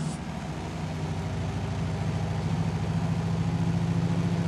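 A Kenworth W900A truck engine in Euro Truck Simulator 2 holds a steady, deep rumble that builds slightly in loudness over a few seconds, with no voices over it.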